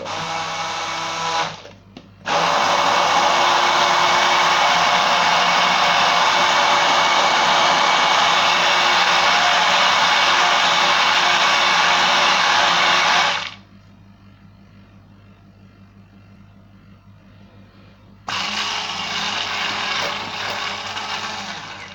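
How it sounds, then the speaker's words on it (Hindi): Electric blender whirring as it blends tahini dip with olive oil: a loud, steady motor roar for about eleven seconds, a brief pause, then another shorter run, close up with no talking. "इसको इतना ब्लेंड करना है कि इसका ऑयल जो सेपरेट था वो मिक्स हो जाए"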